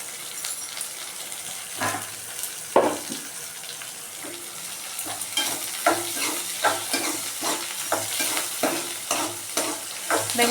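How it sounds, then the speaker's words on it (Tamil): Onions sauté in a hot pan, a steady sizzle broken by a run of rhythmic stirring scrapes that grow more regular in the second half, with no voices. "வெங்காயம் போட்டுட்டு வதக்கி விடணும்."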